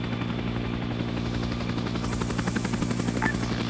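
A helicopter in the video game Arma 3 runs with a steady, loud rotor thump and engine drone, its rhythmic chopping continuous throughout, briefly joined by a faint beeping tone near the end.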